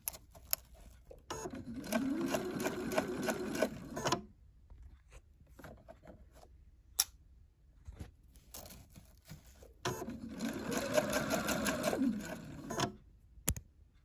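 Sewing machine stitching a lace bodice with illusion netting, two bursts of steady mechanical whirring a few seconds each, separated by quieter pauses with small handling clicks.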